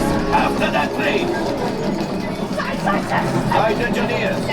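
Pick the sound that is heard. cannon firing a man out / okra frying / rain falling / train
train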